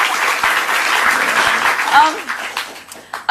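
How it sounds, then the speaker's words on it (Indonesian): Loud applause from a television studio audience fills most of the moment, thinning out toward the end as a voice speaks. "kasih tepuk tangan dong"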